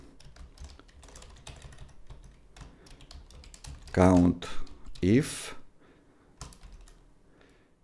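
Typing on a computer keyboard while entering a Google Sheets formula: a quiet run of key clicks throughout, with a few louder bursts of rapid keystrokes midway, while someone talks.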